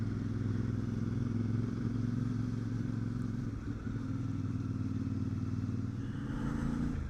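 A motorcycle with its standard exhaust idles with a deep, steady rumble, even and unbroken throughout, fairly close with no voices.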